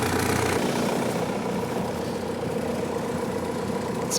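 A car engine idles steadily in cold winter weather, a continuous low rumble close by with no talking.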